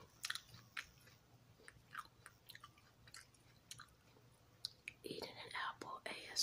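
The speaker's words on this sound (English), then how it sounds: "Eating an apple ASMR." Close, intimate crunching bites and wet chewing of a juicy red apple, with scattered crisp snaps and soft whispering between them, all quiet and near.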